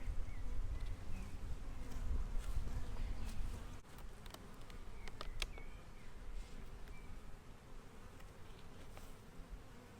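A mass of honey bees drones around an opened hive during a beekeeping inspection, a dense close buzz that swells and thins. Sharp individual bees zip past now and then.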